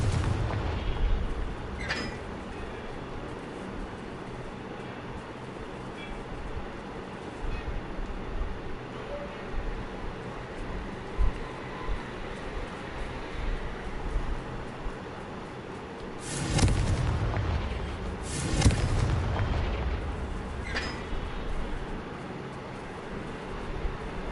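Confringo fire spell blasts in Hogwarts Legacy, heavy booming impacts rising out of a steady rumbling game backdrop, two or three strong bursts near the end, with no talk.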